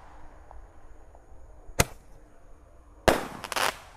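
Firecrackers and fireworks set off at night: two sharp, loud bangs with a short fizzing crackle after the second, against a quiet outdoor background.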